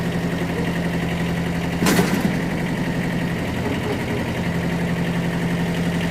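A Kubota KJ11 Japanese mini tractor idles steadily and loudly at close range while its tiller is raised and lowered, with a short sharp clunk partway through.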